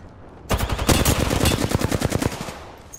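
Rapid automatic gunfire from the battle-royale shooter Apex Legends, a quick burst of loud, evenly spaced shots rattling for about two and a half seconds with no talk over it.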